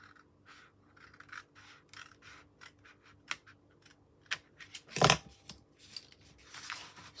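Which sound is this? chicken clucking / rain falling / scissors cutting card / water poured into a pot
scissors cutting card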